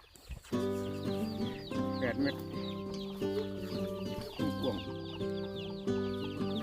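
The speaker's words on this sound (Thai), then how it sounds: "เลี้ยงเป็ดเลี้ยงไก่" Backyard chickens, kept alongside ducks, cluck continuously and close by in a busy, overlapping chorus with a few sharper squawks, and no talking is heard over it.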